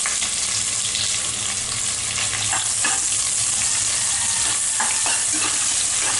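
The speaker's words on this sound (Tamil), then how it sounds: "இது வந்து நல்லா பொன்னிறமாக வரை நம்ம வதக்கி விட்டுடலாம்." Sliced onions frying in oil with whole spices such as cinnamon for tomato biryani, a steady close sizzle throughout with scattered stirring scrapes and clinks, no talking.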